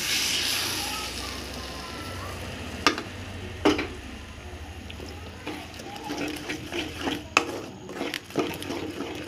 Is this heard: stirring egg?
yes